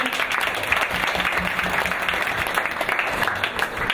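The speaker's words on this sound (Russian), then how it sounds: "Аплодисменты, друзья!" Audience applause at a science slam, a dense, steady burst of many hands clapping that stays loud and even for several seconds with no pauses.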